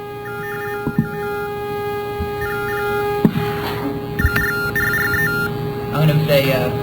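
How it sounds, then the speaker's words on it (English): Battery-powered pocket text terminal for the hearing impaired, sending data as steady electronic tones with single tones marking the 1-bits, a sustained beeping warble pattern heard close over a faint background hum; people speak briefly. "I'm going to let you hear what one of these things sounds like. This is a pocket terminal, battery powered."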